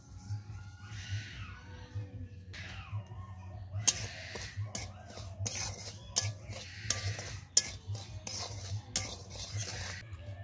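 A spatula stirs semolina roasting in a wok, with a steady series of close scraping strokes and clinks over a low hum, faster and denser in the second half, with no talking.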